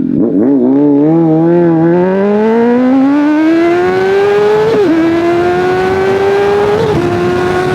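A Honda CBR600RR motorcycle with a cheap aftermarket exhaust, no catalytic converter and no servo, accelerates hard through the gears, its loud rising engine howl broken by two brief shifts, close and alone.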